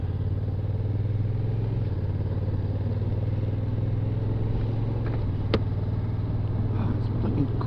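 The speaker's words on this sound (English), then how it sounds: "let's go and have a wee ride on the bike" A Honda NT1100 motorcycle rides along on a cold day, with a constant droning engine and road noise and a sharp click partway through.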